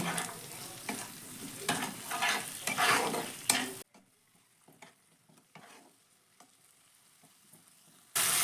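Ginger, garlic, onion and tomato sizzle in a pan while a utensil stirs and scrapes in repeated strokes, loud at first, then dropping to a quieter sizzle with occasional stirs.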